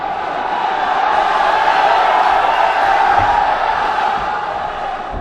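At a kickboxing match, a large audience roars and cheers in a loud, sustained wash of crowd noise that swells and slowly fades.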